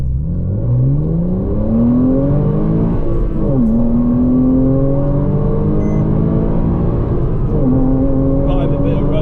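A Porsche Cayman engine revs and accelerates hard on a private, bumpy road, loud and continuous, its note climbing, dropping briefly at a gear change, then climbing again, with faint talk beneath.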